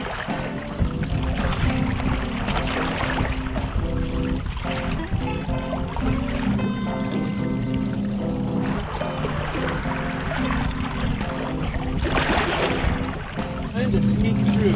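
A sailboat runs dead downwind under a kite on a narrow passage toward an island, with water rushing and trickling along the hull throughout while people talk over it.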